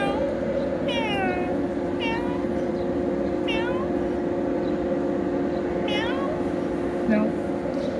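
A cat meows in a series of short, rising cries while it eats on a sheep farm. The calls are spaced out over a steady low rumble of background machinery.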